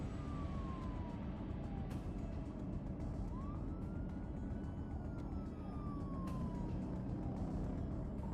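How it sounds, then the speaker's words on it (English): A police car siren wails during a chase, its tone sweeping up and down in long glides over a constant road rumble at moderate distance. "Trooper Killian activates his lights and sirens while the chase intensifies."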